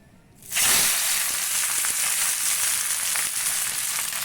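Spiced chicken wrapped in banana leaf hits an oiled tawa and sizzles loudly, a sudden burst of frying hiss that holds steady close by after a brief quiet start, with no talking.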